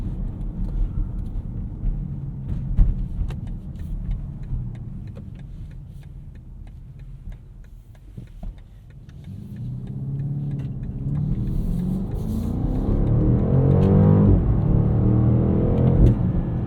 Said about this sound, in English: we're going to listen to the V8 here in just a second